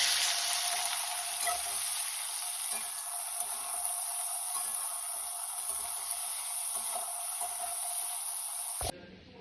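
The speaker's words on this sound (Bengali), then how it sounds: "আমি ভালো করে এগুলো ভেজে নেব।" Chopped onion, capsicum and carrot sizzle steadily in oil in a pan for chowmein, a constant close hiss with occasional soft stirring scrapes, ending with a sudden cut.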